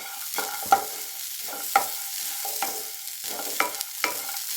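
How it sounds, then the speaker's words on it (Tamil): Grated coconut and garlic roasting in a pan for a Tamil carrot fry, giving a soft steady sizzle with stirring scrapes and a few sharp clicks of a spoon against the pan. "இந்த தேங்காயோட கலர் சேஞ்ச் ஆகிற அளவுக்கு வறுத்துக்கணும்"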